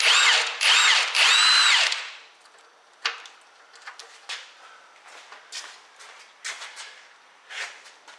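A power tool unbolts a steering part on a 1964 Ford Thunderbird: two loud, close whirring bursts up front, then softer intermittent knocks and clanks of tool and metal parts.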